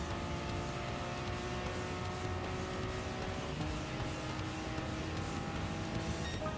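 Lamborghini engine in Gran Turismo Sport, a faint continuous hum with shifting pitch running unbroken through the stretch, no voices.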